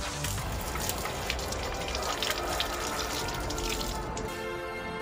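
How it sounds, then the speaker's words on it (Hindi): Tap water running steadily into a bottle being filled for the fridge, a loud, continuous, close gush and splash that holds for several seconds with no voices. "अभी मैं जा रहा हूँ फ्रिज के लिए बॉटल में पानी भरने"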